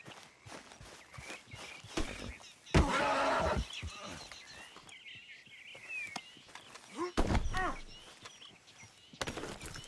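A horse in the video game Red Dead Redemption 2, with hoof footsteps throughout and two loud whinnies close up, among other game sounds.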